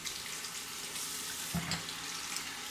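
Tap water runs steadily into a sink while a shaving razor is rinsed under it, a continuous close hiss with a brief splash partway through.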